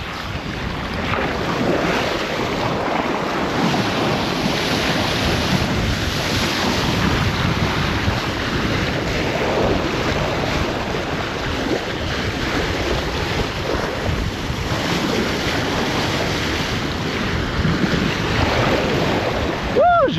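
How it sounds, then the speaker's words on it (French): Sailboat surfing on ocean waves in strong wind, a steady loud wash of water and rushing hull noise mixed with heavy wind buffeting on the microphone, continuous for the whole stretch. "tu vois le bateau comme il bouge bien. Joli surf."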